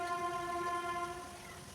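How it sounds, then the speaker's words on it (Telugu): A train near a railway station sounds a steady, sustained horn, faint and distant, fading slightly toward the end, heard from a kitchen where chicken pickle is being made. "మాకు రైల్వే స్టేషన్ దగ్గరే నేను అందువల్ల ట్రైన్ సౌండ్స్ అయితే వస్తాయి"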